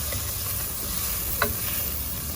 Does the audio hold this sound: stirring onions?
yes